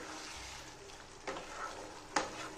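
Fish fries softly in a pan while being gently turned, a quiet sizzle broken by two brief scraping stirs; no one speaks.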